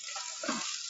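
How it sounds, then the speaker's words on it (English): Onion tipped into a hot pan for caramelising, giving a continuous bright sizzle with a brief clatter partway through, close and fairly quiet, with no talking. "And I'm going to add my onion."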